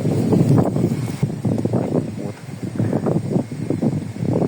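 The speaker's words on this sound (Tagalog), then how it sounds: "Teka lang pero may hangin." Gusts of wind rumble against the microphone in uneven bursts, fairly loud and close, rising and falling for a few seconds.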